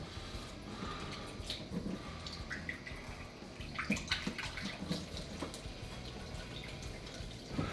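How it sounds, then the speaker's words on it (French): Water runs and splashes steadily as a cocktail jigger is rinsed, a faint, continuous trickle with small drips and clinks throughout. "on va rincer le jigger parce qu'avec le whisky"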